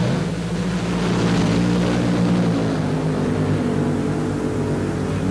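A Top Fuel dragster making a run in the first round of Top Fuel Eliminator at the 1976 NHRA World Finals in Ontario, California, with Shirley Muldowney racing, a loud, steady, continuous engine roar sustained throughout without speech.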